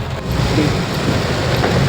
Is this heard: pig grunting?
no